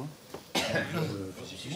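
A single sharp cough bursts out near the middle, preceded and followed by quiet, low background murmur.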